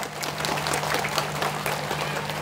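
A large crowd of Buddhist followers gathered at Hồ Bể beach in Sóc Trăng applauds, a dense, steady wash of clapping that holds level throughout with a faint low hum beneath.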